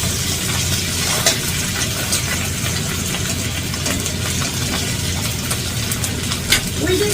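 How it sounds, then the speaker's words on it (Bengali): Shing fish fry in hot oil in a pan with a steady, loud crackling sizzle that runs throughout, with a few sharper spits and clatters. "উল্টে নিলাম, বাকি পিঠটাও আমি একটু ভালো করে ভেজে নেব।"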